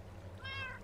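A single short cat meow in Minecraft, faint and quick, rising and falling over a low background hum.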